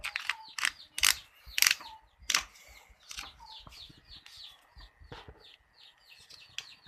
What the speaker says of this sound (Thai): ขันฝาปิดเลยนะเป็นนี้